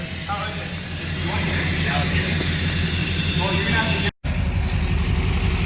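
A deep LBZ Duramax diesel truck engine with a 5-inch exhaust rumbles steadily at idle close by, with faint voices over the drone and a brief cut near the end.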